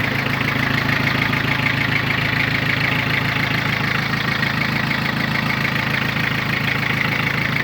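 A Mitsubishi MT2201 2WD mini tractor engine idles in neutral with a loud, close, even diesel chug that holds steady throughout, and nobody talks.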